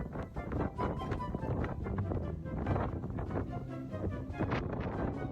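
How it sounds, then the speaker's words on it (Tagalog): Strong wind at a grotto in Batanes roars and buffets the microphone continuously, loud and gusty throughout. "Lakas ng hangin."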